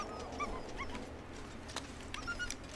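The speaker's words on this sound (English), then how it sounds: "Get out of here, doggy. Just an untamed doggy." An untamed dog in the survival video game The Long Dark whimpers and yips in short, high, rising cries, a few quick calls spaced across the moment over a quiet wind-like background.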